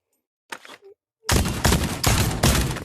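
Shotgun fire in the VR shooter Pavlov: a short burst of handling noise, then four loud, dense blasts in quick succession that fill the space with no pause between them.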